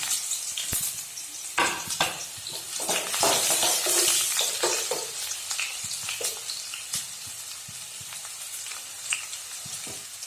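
Onions sizzle in hot oil in a wok, with a soft, steady frying crackle under irregular scrapes and clinks of a spatula as they are stirred. The stirring is busiest early on, and there is no talk.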